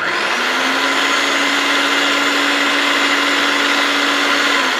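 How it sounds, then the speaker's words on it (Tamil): A small electric vegetable chopper motor whirs steadily at high speed, a continuous buzzing drone with no breaks, loud and close. "ஃபுல் சாப்பிங் வேணா கொஞ்சம் கண்டினியூஸா ஓட விட்டீங்கன்னா ஃபுல் சாப்பிங் வந்துடும்"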